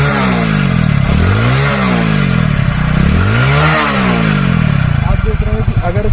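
A motorcycle engine idles loudly up close, then revs up and drops back twice in rising and falling swells before settling into a rough idle.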